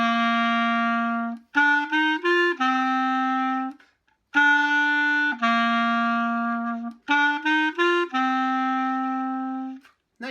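A solo Bb clarinet plays the beginner melody of a song. Three clear repeated phrases of sustained, slurred notes are separated by short pauses, close and bright, with no talking.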